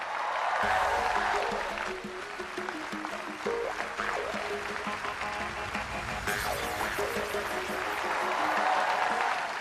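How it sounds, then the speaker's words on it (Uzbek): A studio audience at a television talent show applauds loudly and continuously, clapping building quickly and holding steady as a dense wash of hands, with a brief swell near the end. "Olqishlab qo'yamiz."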